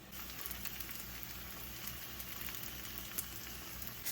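A steady, close sizzle of a chive pancake frying in a hot pan, a constant crackling hiss without pauses.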